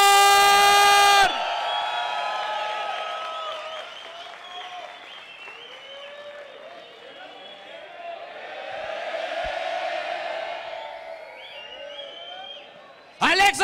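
Studio audience bursts into applause and cheering for a guest's entrance on a Spanish-language comedy show, with steady clapping and whoops rising and falling under an announcer's voice, framed by brief loud musical stings at the start and end.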